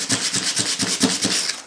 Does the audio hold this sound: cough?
no